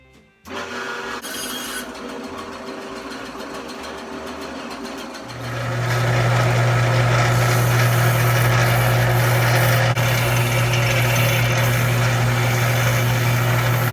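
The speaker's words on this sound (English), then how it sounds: "I'm now cutting it to final length." A piece of wood is cut to final length during woodwork, a power saw starting up after a few seconds of quieter handling and then running loud and steady with a strong hum to the end.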